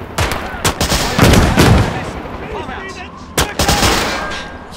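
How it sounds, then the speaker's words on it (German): Gunfire crackles in the WWII game Call to Arms - Gates of Hell during a 1939 siege of Warsaw, with sharp shots and short bursts close by, a heavier volley in the middle, and more shots near the end. "Sie schießen auf uns!"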